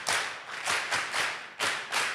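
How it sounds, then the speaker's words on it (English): A group claps in a loose, rhythmic beat, about seven sharp bursts of hand claps, close and fairly loud. "Now clap your hands."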